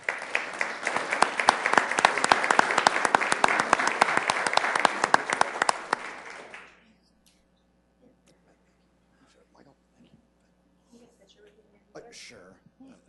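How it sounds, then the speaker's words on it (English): An audience at a Sioux Falls city council meeting gives a sustained round of applause for six seconds, dense and fairly loud, then it stops abruptly into near silence with a few faint voices at the end. "A round of applause, please."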